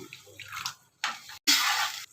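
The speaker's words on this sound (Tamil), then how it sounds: "கொஞ்சமாக வந்து தண்ணி சேர்த்துக்கலாம்" Water splashes into a cooking pan in short bursts after ginger-garlic paste is sautéed for an egg thokku, close and fairly loud with brief pauses between pours.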